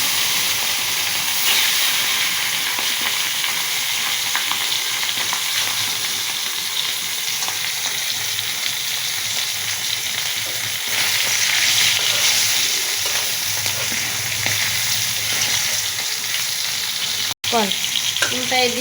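Poa fish pieces frying in hot oil in a pan, giving a strong continuous sizzle and hiss close by with occasional stirring scrapes, a brief dropout near the end, and no speech.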